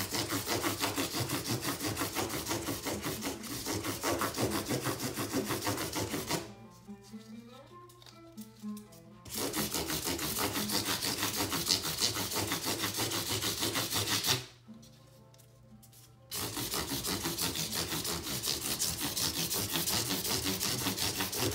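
Classical guitar frets sanded with 400 grit wet/dry sandpaper, a loud, close, continuous raspy back-and-forth scrubbing that stops twice for a couple of seconds before resuming.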